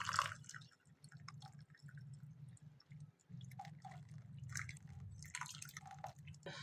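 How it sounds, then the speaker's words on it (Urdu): Adrak darchini kahwa, a ginger and cinnamon tea, strained into a cup, heard as faint dribbling and trickling liquid with small drips over a low background hum. "آپ نے قہوہ کو چھان کر کپ میں ڈال لینا ہے۔"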